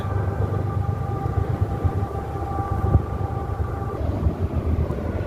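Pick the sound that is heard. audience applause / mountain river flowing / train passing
train passing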